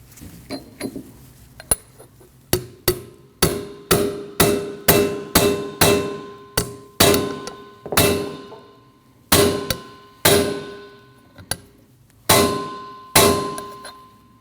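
Wheel hub seal on a 2003-2008 Subaru Forester rear hub being tapped into place with a hammer: a series of sharp metallic clangs in an uneven rhythm, close and loud, each ringing briefly before the next strike.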